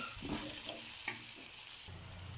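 Okra and curry leaves fry in a pan with a bright, continuous sizzle, broken by stirring scrapes and one short metallic clink partway through.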